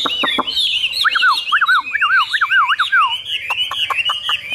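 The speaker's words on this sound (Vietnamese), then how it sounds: "chim hót rất là tốt, đặc biệt rất là mau mỏ các bác nhé" A Chinese hwamei (Vietnamese họa mi) songbird with a yellow beak and yellow legs sings loud and close in a rapid, varied run of sweeping whistles, sharp chirps and squawky notes.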